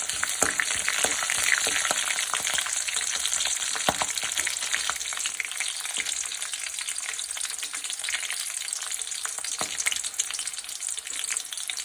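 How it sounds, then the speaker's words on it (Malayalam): Ginger and garlic frying in hot oil for a Kerala ulli theeyal curry, giving a steady loud crackling sizzle throughout with scattered pops and stirring clicks, no talking. "ഇഞ്ചി വെളുത്തുള്ളി എന്നിവയിട്ട് നന്നായിട്ട് മൂപ്പിക്കുക"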